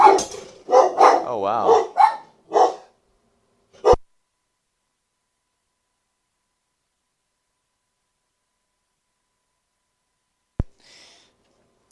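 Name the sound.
dog barking at the mailman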